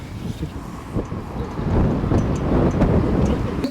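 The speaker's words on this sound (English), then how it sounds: "I wasn't sort of expecting wind." Wind gusts outdoors, a rough, rumbling buffeting that rises and falls and grows stronger midway, heard close with no clear voices.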